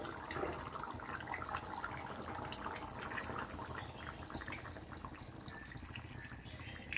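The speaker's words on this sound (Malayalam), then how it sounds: "2-ാം പാലിൽ വെന്ത് കുറുകിയ ചിക്കൻ കറിയിലേക്ക് 1-ാം പാൽ ഒഴിക്കാൻ പാടും" Thick first-press coconut milk poured into a simmering chicken curry cooked down in the thinner second milk: quiet, continuous liquid trickling and dripping close by.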